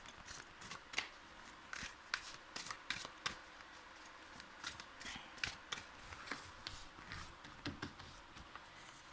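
Playing cards being shuffled and drawn, a quick run of soft riffling flicks and snaps close up, irregular and fairly quiet.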